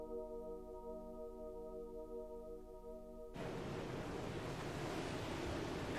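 Surf washes steadily onto the shore at Nachikatsura in Wakayama Prefecture, a broad even rush of waves that swells in after a few seconds of low tonal hum and continues without a break.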